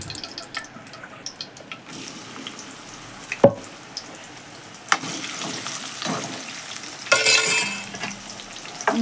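Gongura leaves wilting in a pan give a steady, soft sizzle, broken by a few sharp stirring clatters and a brighter burst of frying near the end.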